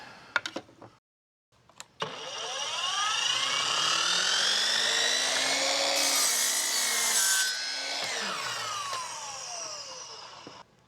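Budget miter saw fitted with a 40-tooth combination blade cutting through walnut: a sharp click and motor spin-up, then a loud whining cut with shifting pitch lasting several seconds before winding down.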